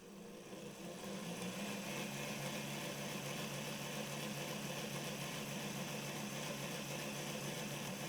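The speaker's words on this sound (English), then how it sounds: "I just noticed there was a bit more motor noise in this direction." A Rapido LNER Y7 tank engine, an 00 gauge model locomotive, runs in reverse with a steady whirring motor hum. The hum is faint and unbroken, starts within the first second and holds at an even level.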